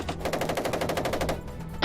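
Machine-gun fire in combat rattles in one sustained rapid burst of evenly spaced shots, loud and harsh, then stops abruptly near the end.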